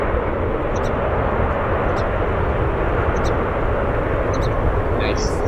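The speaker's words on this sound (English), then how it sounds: "Nice thrust reverse sound" A Boeing 737-700 rolls out after touchdown on runway 10 Center at O'Hare International Airport, its thrust reversers giving a steady, broad, loud roar that holds level for the whole stretch, with talk over it.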